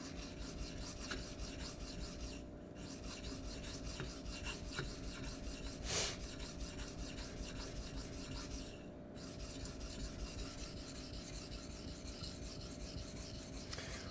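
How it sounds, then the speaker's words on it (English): Steady abrasive rubbing of a knife edge on a 240 grit Venev sharpening stone, a continuous rasping scrape with brief pauses between strokes, close and fairly quiet. "So I'm gonna try to start on this edge, and this is 240 grit"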